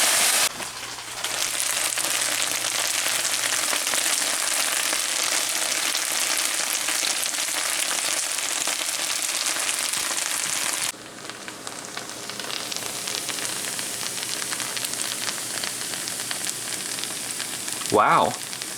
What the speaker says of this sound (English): you add your chives, and you cook that for 2 minutes